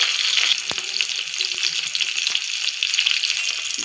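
Dried fish frying in a pan with curry leaves, giving a steady bright sizzle with occasional sharp crackles and pops, close and continuous with no talking.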